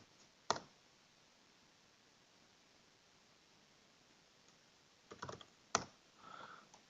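A few sparse computer keyboard keystrokes: a single click, a pause, then a short cluster of taps, faint and close in a quiet room.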